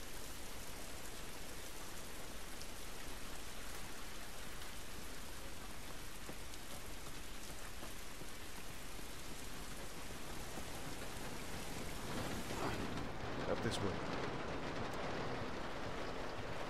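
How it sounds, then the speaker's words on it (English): Steady, soft rain falls outdoors in The Last of Us, a dense even hiss without a break. It is faint and alone, with a brief rustle near the end. "This rain ain't gonna do us any good."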